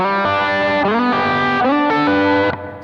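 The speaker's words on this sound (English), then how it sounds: "that reverb is going to start getting more of that drip sound" Guitar through a Jet Pedals Revelation ambient reverb pedal, with loud sustained chords swelling into a wet, dripping reverb wash across several changes before cutting off near the end.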